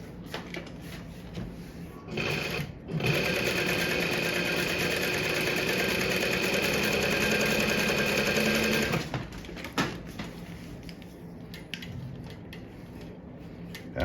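A JUKI sewing machine runs in a steady, continuous mechanical whir for several seconds, then stops, leaving faint handling clicks and rustles afterward; close and moderately loud.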